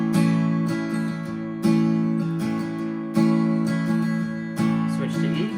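An acoustic guitar strums four full chords in steady succession, starting on A, each a bright, ringing downstroke strum that sustains and fades before the next, close and clear with no voice, playing the chord pattern of a song.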